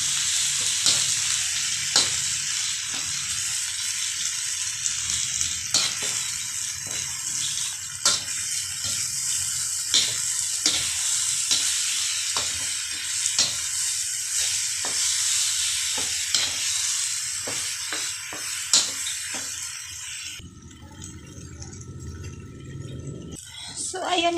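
Garlic, onion and tomato sizzle loudly in a pan, a constant bright frying hiss broken by regular clicks and scrapes of a utensil. The sizzle cuts off abruptly near the end.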